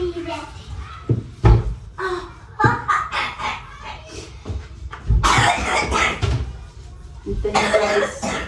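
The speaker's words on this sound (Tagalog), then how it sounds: "medyo inuubo si ate kasi nga malamig na dito" A woman coughs repeatedly in short bursts amid indoor household knocks and clatter, with people speaking and a voice around her.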